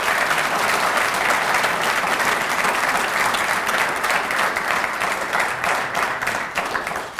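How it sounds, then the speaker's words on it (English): Sustained audience applause at a 2013 annual recognition ceremony, honoring the Todd Bell Resource Center: thick, even clapping from a large crowd that continues for several seconds, tapering slightly near the end. "So let's give the Todd Bell Resource Center a round of applause."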